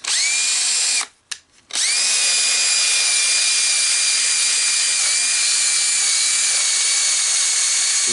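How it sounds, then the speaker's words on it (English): A power sander whines loudly and steadily while spot sanding fibrous wood, stops briefly after a second, then resumes its high, sustained drone. "Time for some spot sanding."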